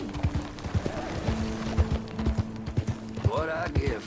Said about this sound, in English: Somebody's horse running loose.